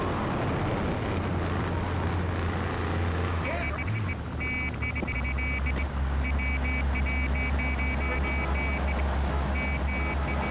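Car driving in Grand Theft Auto 3, a low steady engine drone running throughout, with a repeating high electronic beeping joining partway through and someone talking over it.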